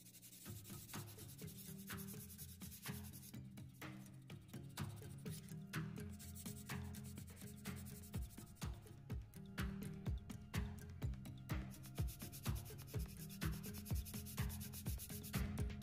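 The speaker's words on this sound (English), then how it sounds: "One of the best things to use the erasing sanding block for is to flatten out mating surfaces" Close-up scraping of an erasing sanding block rubbed back and forth in short, rhythmic strokes against a plastic scale model's mating surfaces, quiet and steady.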